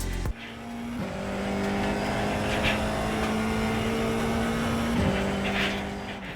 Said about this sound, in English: it's mostly masked by the engine sound from the game